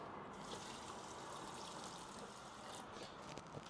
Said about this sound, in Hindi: और उसके बाद मैं डालूँगा इसमें थोड़ा पानी